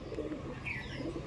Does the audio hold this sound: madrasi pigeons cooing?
yes